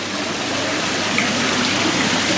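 A pond pump circulates water through a new filter setup with a skimmer, giving a steady close gushing and splashing wash of moving water with no talk over it.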